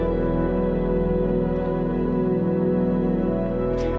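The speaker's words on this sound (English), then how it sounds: "which is a stereo music cue." Stereo music cue playing back steadily with a dense, sustained tonal bed and low rhythmic pulses, even and continuous at moderate level with no voices.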